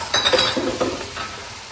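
Tomatoes tipped into frying onions and stirred in a pan, a loud close sizzle with a few quick scraping strokes of a spoon, no voices.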